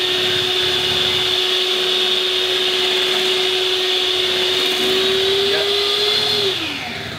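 An electric mixer drones steadily while beating egg into a low-carb bread mixture, a loud continuous whir with a slight drop in pitch as it winds down at the end.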